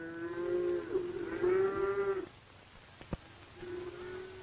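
Beef cattle in market stockyard pens where meat packing buyers choose animals, giving a long, loud, near moo that is followed by a pause, a sharp knock and a second, softer moo.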